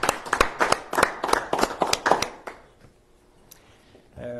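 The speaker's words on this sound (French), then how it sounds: "une bonne main d'applaudissements à M. Delorme" A few people clap at a Rouyn-Noranda municipal council meeting, roughly ten distinct close claps in a quick steady rhythm for two and a half seconds, then near quiet.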